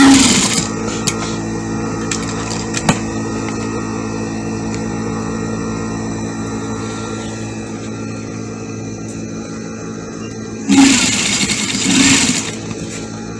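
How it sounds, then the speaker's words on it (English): Sewing machine running steadily while stitching fabric for a child's peplum dress, a continuous mechanical whir that holds for about ten seconds, then swells louder and busier toward the end. "So you put it on the machine. So as you're sewing it, it will work."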